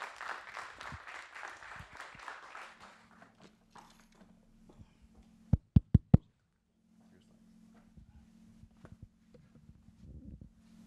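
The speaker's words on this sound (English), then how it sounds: "clap for him as he comes towards the stage." Conference audience claps for a speaker walking to the stage: a few seconds of dense applause that quickly thins and stops, followed by quiet room tone with a few sharp knocks.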